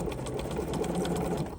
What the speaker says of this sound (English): I'm just using the number 8 foot, which is a jean stitch foot, And I'm just going to use this to just simply